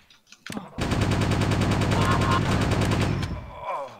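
Rapid automatic gunfire from an Outlaws multiplayer capture-the-flag match rattles in a long continuous burst lasting about three seconds, loud and close, followed by a brief fading tail.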